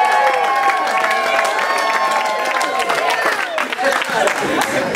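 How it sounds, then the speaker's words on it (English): Startup weekend audience at Siskiyou Startup Weekend 2017 whooping and cheering in a practice run, a dense roomful of shouts and claps sustained loudly throughout, with voices mixed in. "So everybody jump up and cheer for something."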